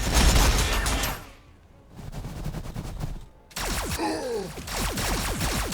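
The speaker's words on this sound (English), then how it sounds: "They shoot at us." Bursts of automatic gunfire and shots crackle through a Warhammer 40k Battlesector battle, loud at first, dropping to a quieter stretch, then returning as a dense run of sharp cracks and whooshing projectiles.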